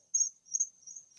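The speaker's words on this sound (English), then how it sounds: "I hear crickets. Yeah, I'm walking my dog. It's actually real crickets." Crickets chirp outdoors at night during a dog walk, a thin high trill repeating in three steady pulses, fairly close and clear with no talk over it.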